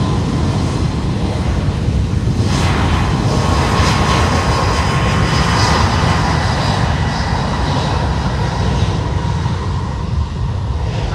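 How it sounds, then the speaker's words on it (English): Airliner jet engines roaring loud and steady during the takeoff roll at San Juan airport, a broad close rumbling roar sustained throughout with a faint buzzsaw-like whine on top. "Kind of heard a buzzsaw on the takeoff roll, but there it goes."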